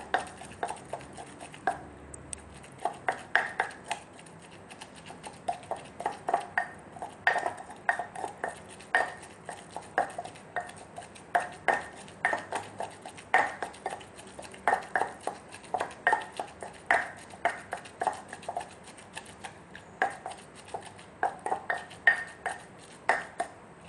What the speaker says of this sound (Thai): ก็โขกคอหยาบเหมือนกันนะคะ ไม่ต้องเอาละเอียดมาก